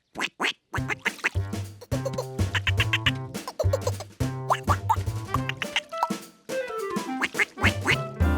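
Ducks quack loudly and repeatedly, a rapid, overlapping chorus of nasal calls close to the listener.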